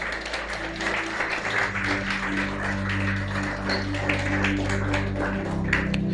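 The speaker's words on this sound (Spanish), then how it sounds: "¿Puede dar un aplauso al Señor?" A church congregation applauds during a Spanish-language sermon, a dense spread of claps over sustained low music from the service.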